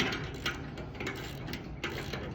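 Ratchet wrench tightening the final bolts on the timber head section of barge fall protection, a close, rapid run of metallic clicks with a few louder pawl snaps.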